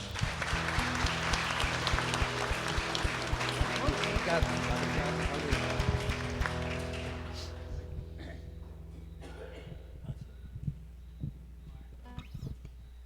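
Church congregation at an evening novena honoring Senhor Bom Jesus de Iguape claps in welcome, a dense patter over sustained organ-like tones that fades after several seconds into sparse, quieter claps and a low hum.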